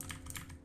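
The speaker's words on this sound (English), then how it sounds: "we're gonna type backslash a couple of times with the backtick" A few quick, faint taps on a computer keyboard, short clicks over a low background hum.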